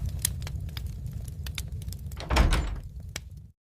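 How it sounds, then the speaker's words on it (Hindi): A heavy door grinds and rumbles open with a deep scraping sound, with clacks and knocks along the way and a louder surge near the end before it stops abruptly. "दरवाजा खुला"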